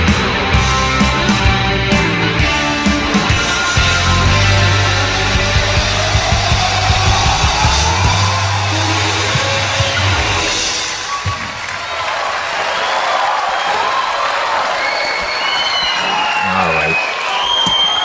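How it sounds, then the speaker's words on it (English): A live concert crowd at a 1986 Smiths show cheers and applauds loudly between songs, a dense sustained roar of clapping and shouting with whistles that carries on throughout. "they continue to cheer on for another 20 seconds in between songs"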